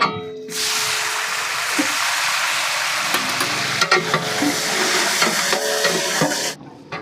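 Onions and tomato frying together in a pot over a wood fire for biryani, a steady close sizzle with frequent stirring scrapes that runs for several seconds and then cuts off.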